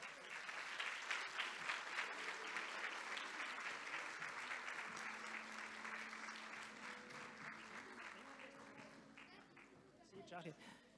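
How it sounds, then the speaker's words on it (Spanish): Church audience applause for children walking past, loud sustained clapping with voices and cheers mixed in and sustained tones underneath, fading toward the end. "¿Por qué no le damos a los chicos a medida que pasan un fuerte aplauso?"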